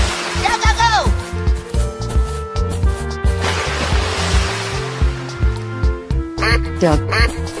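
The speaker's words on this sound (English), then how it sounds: "Duck." Duck quacks in a 3D animal slide-game animation: a quick, nasal burst at the start and another near the end, both over a steady music bed.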